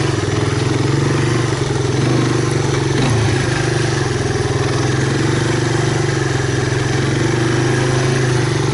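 A 1985 Honda Big Red ATC250ES three-wheeler engine runs steadily close by, a loud, even mid-pitched idle with a brief blip partway through and no talk.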